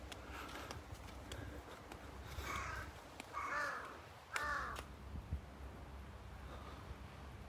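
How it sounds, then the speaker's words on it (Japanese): A crow caws several times in a row on Hatsushima island, the calls ringing out moderately near over quiet outdoor background noise. "結構バカにしてる感じですね、あのカラス。"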